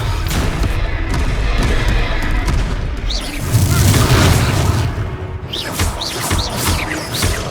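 Fire spell blasts in Hogwarts Legacy on hard difficulty, heavy booming bursts over a dense battle din of rumbles and other effects, loud and continuous, with some shouting in the mix.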